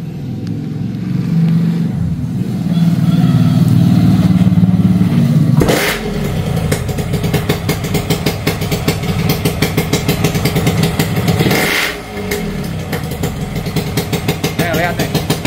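Yamaha motorcycle engine at idle, rising into a loud rev for several seconds, then dropping back and running with a rough, pulsing idle, with two sharp blips along the way and someone talking over it.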